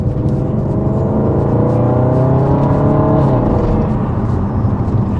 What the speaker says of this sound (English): you can hear it on downshift. It does growl quite nicely.